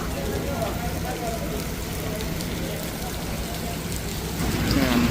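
Rain falls steadily at the Port of Cagayan, an even patter and hiss throughout, swelling slightly louder near the end, with no clear talk over it.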